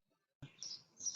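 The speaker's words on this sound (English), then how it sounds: "You have a lot of birds." Birds chirp in the background, with a few faint, high, quick tweets appearing after a moment of near silence over a soft hiss.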